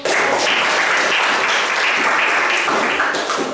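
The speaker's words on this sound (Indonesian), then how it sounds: "Kita berikan aplaus untuk" Steady, loud classroom applause from students clapping for a group that has just finished its class presentation, dense and continuous throughout.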